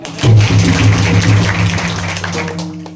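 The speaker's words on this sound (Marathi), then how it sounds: "जरा टाळ्या वाजवा." An audience claps steadily during a kirtan, a dense wash of hands mixed with sustained harmonium-like musical tones, loud and continuous for the whole stretch before easing slightly at the end.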